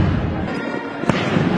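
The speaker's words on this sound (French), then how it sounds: "21 coups de canon." A single sharp cannon boom from the 21-gun salute at the Zambian presidential inauguration cuts through steady outdoor crowd noise and faint voices.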